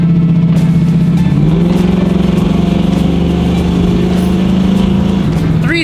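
A car engine revs hard and holds a loud, steady drone, dipping briefly near the start and easing off at the end, with a voice speaking over it.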